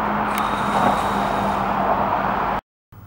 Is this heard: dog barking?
no